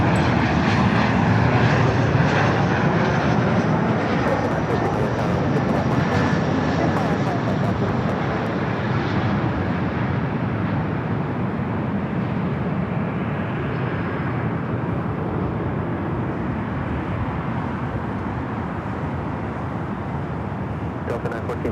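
CRJ regional jet on short final at LAX, a loud continuous engine roar that slowly fades as it passes, with a voice talking over it.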